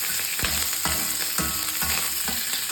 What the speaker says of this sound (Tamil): கொஞ்சம் லேசாக வதங்கட்டும்.